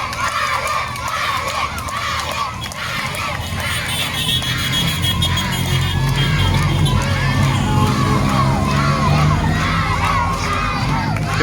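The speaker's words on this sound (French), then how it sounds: "avec les applaudissements des enfants" Children along a roadside climb cheer and shout for passing riders in a Lamentin cycling criterium road race, a loud continuous crowd din with high excited voices throughout.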